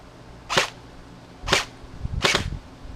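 A G&G Combat Machine airsoft gun firing three sharp, snappy single shots about a second apart, close and loud with quiet gaps between.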